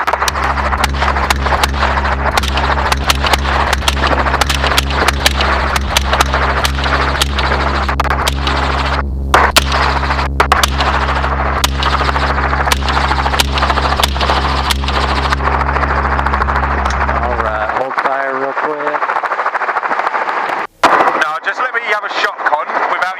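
Rapid gunfire shot from a helicopter during a hog hunt, a fast run of loud cracks over the heavy, steady thrum of the rotor, with people talking now and then.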